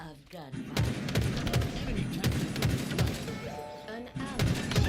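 Rapid gunfire from the Halo Infinite multiplayer game, bursts of shots repeating steadily over game music and effects, fairly loud and continuous throughout.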